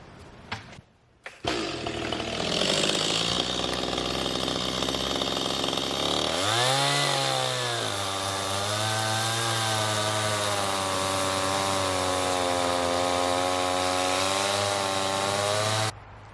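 A chainsaw starts and runs at a high whine, then drops into a lower, labouring tone as it bites through logs, loud and close, continuing steadily outdoors.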